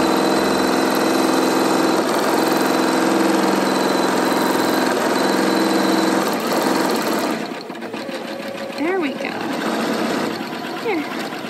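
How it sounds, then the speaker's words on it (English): A Janome Continental M17 sewing and embroidery machine runs steadily up close with a continuous mechanical whir, while a person talks over it and the sound thins out near the end. "Now the machine's gonna start."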